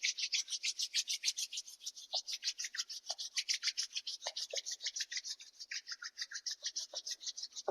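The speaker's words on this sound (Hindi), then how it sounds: "अब एक स्माइल के साथ अपने दोनों हाथों को रब करेंगे" Two hands rubbing briskly together at close range, a steady run of soft dry swishing strokes in quick rhythm, alone and fairly quiet.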